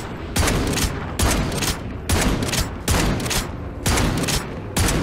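Rapid bursts of gunfire in Call of Duty Modern Warfare 3 Zombies repeat at a steady rhythm, about six loud volleys, each with a brief crackling tail between shots.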